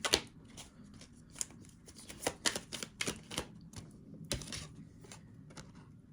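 Tarot cards being shuffled by hand in quick, irregular bursts of crisp riffling and slapping, close and fairly quiet with short pauses between runs.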